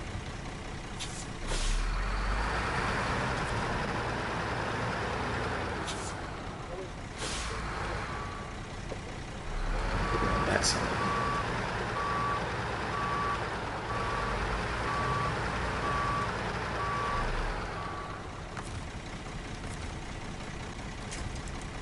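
Reversing beeps ring out at a steady regular pulse from a truck backing a trailer in SnowRunner, sounding over a constant engine rumble and occasional air-brake hisses, with a person talking over it.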